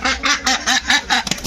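About a hundred farm ducks in Bangladesh quack loudly and close in quick repeated bursts as they file out of their pen.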